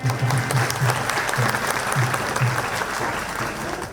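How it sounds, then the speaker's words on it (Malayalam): A father claps after his son's Bharatanatyam stage performance, with the clapping blending into a wider round of audience applause, steady and fairly close throughout. "ഭരതനാട്യം അവതരിപ്പിച്ചു കഴിഞ്ഞപ്പോൾ പിതാവ് ഷമീറിന്റെ കയ്യടി"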